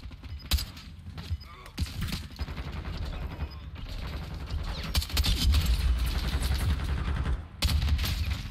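Rapid gunfire bursts from an online shooter game, dense and continuous with loud cracks and rattling mechanisms, rising in intensity toward the end with brief pauses between volleys.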